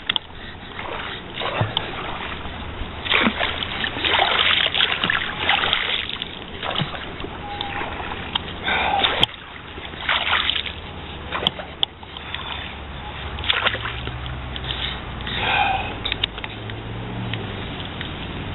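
A paddle dipping and pulling through water beside a coracle built from grapevines and a tent, with repeated splashes and sloshing strokes in an uneven rhythm, close by, with brief murmurs of voice.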